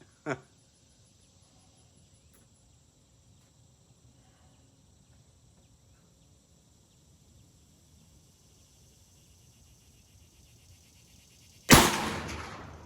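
A .308 rifle fires a single loud, sharp report near the end, following long near-silence with a faint steady background hum.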